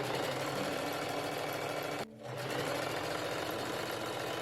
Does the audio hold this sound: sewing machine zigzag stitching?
yes